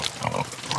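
A pig on a farm in Brittany gives a quick series of close, snuffling grunts lasting under a second, with no talk over it.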